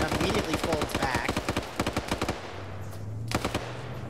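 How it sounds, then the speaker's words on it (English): Rapid bursts of automatic gunfire in a player-versus-player match of a military shooter game, a dense rattling stream that breaks off, then a few more sharp shots over a low steady hum. "they're honing in on the gunfire"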